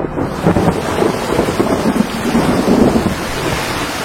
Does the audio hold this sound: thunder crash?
yes